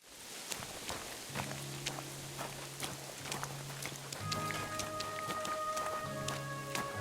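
Rain falling in Kingdom Come Deliverance 2, a steady soft patter with scattered drips and footsteps, while low tonal music hums underneath.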